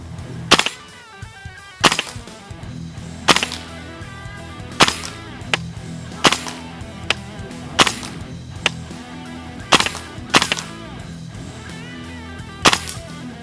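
A KWA gas blowback airsoft gun firing single shots, about ten sharp, loud cracks spaced roughly a second apart, each with the snap of the bolt cycling, close and unaccompanied by talk.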